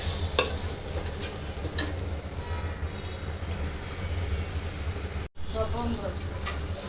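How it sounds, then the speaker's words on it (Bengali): A paste of turmeric, chili and ground onion with salt is sautéed in oil in a pan, giving a continuous close sizzle with stirring scrapes over a constant low background hum and a brief dropout near the end. "এখানে হলুদ মরিচ আর পেঁয়াজ বাটা দিচ্ছি আর লবণ তো এই মশলাটা একটু হালকা কষায়"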